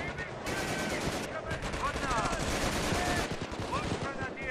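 Continuous machine-gun and rifle fire in a Company of Heroes battle with the Blitzkrieg mod, dense rattling shots at a steady loud level throughout, with battle voices shouting underneath.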